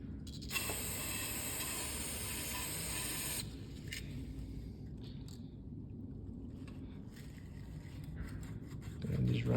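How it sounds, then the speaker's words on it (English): Aerosol carburetor cleaner sprayed onto a lawnmower carburetor during a no-start repair gives a steady, close hiss for about three seconds, then fainter rubbing and handling noises follow. "Go ahead and hit them with some carburetor cleaner."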